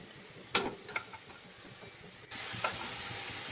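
Masala spice paste sizzles in a pan with browned fried onions while being stirred, a soft steady hiss with a few scraping clicks, then a louder burst of frying.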